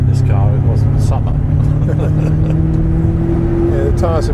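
A Short Chassis Volante car drives along a summer road, its steady low engine drone and road rumble continuous throughout, with people talking over it inside the cabin.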